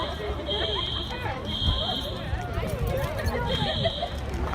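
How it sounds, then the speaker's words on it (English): A college dormitory fire alarm blares in repeated pulsing bursts, loud and nearby, over a background of hallway footsteps and murmured crowd chatter. "here they come to silence the alarms and shut them off"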